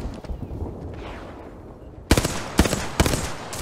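Gunfire in the battle royale video game Apex Legends, with the player being sniped at: after a quiet stretch of faint game noise, three sharp, loud shots ring out about half a second apart.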